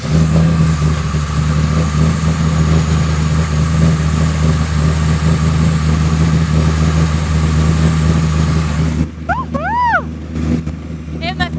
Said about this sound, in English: Do you mind to start the car? I really want to hear this engine in action.